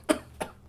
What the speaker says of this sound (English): That wasn't a real cough. That was a BS cough. That was a cough to stall.